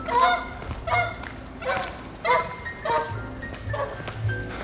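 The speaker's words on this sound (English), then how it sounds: "Lots of geese in this area." Geese honk repeatedly near stormwater ponds by a golf course, a run of loud, harsh calls in uneven bursts, fairly close, with no talking.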